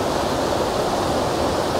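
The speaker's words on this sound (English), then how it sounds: "Nice little waterfall." Small waterfall in a forest stream, a steady dense rushing of falling water, close and fairly loud, with no talk.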